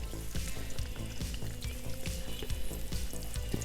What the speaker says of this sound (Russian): И отправляем жарятся чипсы.